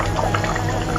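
Water leaf for afang soup cooks in a pot with a close, steady bubbling and sizzling of liquid.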